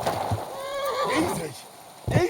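Horse in Kingdom Come Deliverance 2 giving a wavering whinny with a thump of hooves before and after, while someone talks over it.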